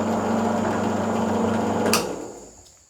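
A Mollar 13mm bench drill motor whirs steadily with a smooth high hum, then winds down and fades out after a brief click near the end.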